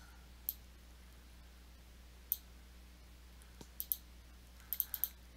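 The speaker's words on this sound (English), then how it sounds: "You can just start double clicking on them" Quiet computer mouse clicks, single and in quick doubles, scattered over a few seconds while channels are added in DMR codeplug contact manager software, close and crisp against a low background hum.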